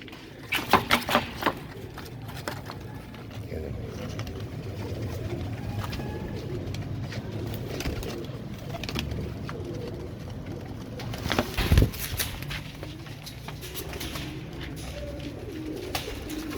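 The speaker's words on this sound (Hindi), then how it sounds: "ये देखो दोस्तों, प्योरिटी में दिखा रहा हूँ कबूतर आपको" Royal Teddy pigeons coo softly in a loft, with low repeated calls, scattered wing flutters and occasional bumps that stand out briefly against a quiet background.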